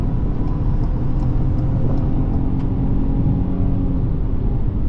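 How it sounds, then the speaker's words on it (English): A 2022 Ford Escape S engine drones steadily from inside the cabin while driving, a loud, constant low rumble with road noise and no talking. "I love revving this engine. It's so playful."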